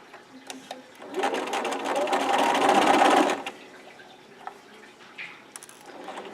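A sewing machine stitches binding onto a quilt in one steady, buzzing run of about two seconds, then stops, leaving small clicks and handling sounds.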